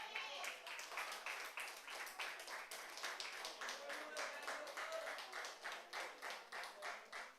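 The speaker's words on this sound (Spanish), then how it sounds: "Entonces, dele un aplauso al grande." A church congregation at a Sunday service claps its hands in a quick, even rhythm, fairly faint and steady throughout.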